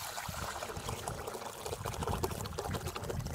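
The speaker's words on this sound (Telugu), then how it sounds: "ఇక మనం పిసుక్కున్న తప్ప పులుసు కూడా ఇళ్ళనే పోసుకోవాలి రసం" Tamarind water is poured into a pot of rasam in a steady, close splashing stream that lasts a few seconds without talk.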